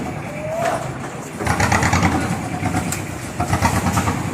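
A 12-wheel truck's diesel engine rumbles steadily as the truck reverses outdoors at a temple event, with rising revving mid-way and a brief high whine early on.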